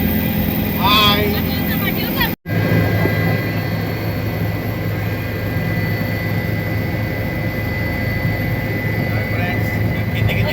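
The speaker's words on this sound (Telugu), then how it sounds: "మేము హెలికాప్టర్లో ఉన్నాం." A loud, steady rotor and engine drone fills the cabin of a helicopter giving rides at the Medaram jatara, continuous throughout with one brief dropout, while people talk over it.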